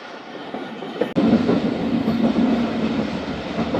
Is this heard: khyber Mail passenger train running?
yes